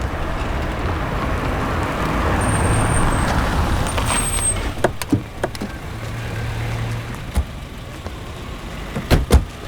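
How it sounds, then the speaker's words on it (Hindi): A car pulling over to the side of the road: a steady engine rumble and road noise that eases off, followed by sharp clicks and knocks as it comes to rest, with no voices. "ए श्रीधर, गाड़ी साइड में रोको।"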